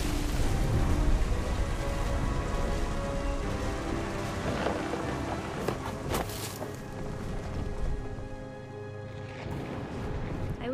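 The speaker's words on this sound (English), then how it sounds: "The thunder sounded much too close and full of angry power." Steady rain with rolling thunder inside the video game What Remains of Edith Finch, a dense wash of downpour with low rumbles and a few sharper cracks, a voice narrating over it.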